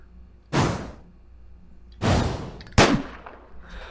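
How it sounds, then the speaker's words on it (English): Gunshots in an indie zombie video game: three loud, separate booming blasts spaced irregularly, each with a short decaying tail, in an otherwise quiet scene. "He shot me in the foot"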